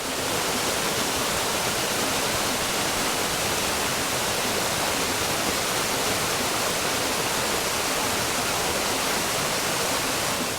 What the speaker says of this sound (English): it is right here next to this waterfall where the most scenic view here at the park is